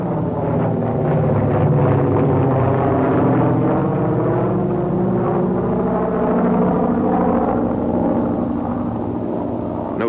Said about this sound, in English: Note the takeoff of the PBY before the glider